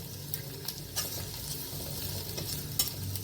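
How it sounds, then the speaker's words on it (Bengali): Green chilli and ginger stir-fried in an oil pan for cauliflower manchurian, a steady sizzle with a few sharp clinks of the stirring spoon, close and fairly quiet, with no talking. "এরপরে দেবো কাঁচা লঙ্কা"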